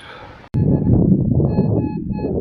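A FORTUNE S metal detector sounds a steady electronic tone while searching for treasure in the Ukrainian countryside, with close, noisy rustling underneath.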